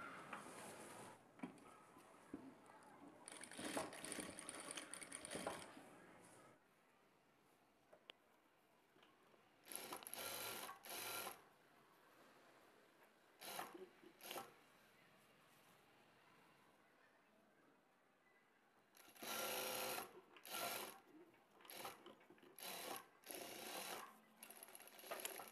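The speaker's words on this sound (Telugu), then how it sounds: "రెండవ సైడ్ కూడా సైడ్ జాయింట్ని స్టిచ్ చేసుకోవాలి" A sewing machine stitches the side joint of a prince cut blouse in quiet, intermittent bursts of fast clattering, with faint pauses of handling between runs and no talking.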